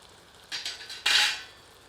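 A lid settles onto a cooking pot of chicken curry, producing two quick metallic clatters that ring briefly and then fade, with no voices.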